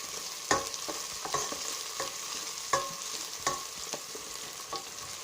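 A pot of vegetable soup being stirred, the spoon scraping and knocking against the side in a loose rhythm over a soft, steady background hiss, close but fairly quiet, with no voices.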